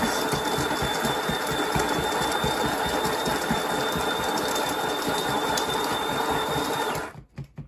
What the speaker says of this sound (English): let's grind up some beans